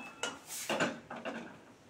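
A pot lid lifted off cooking rice during preparation of a sour fish dish, giving a few light metallic clinks and scrapes spread over a couple of seconds, close and fairly soft, with no talking.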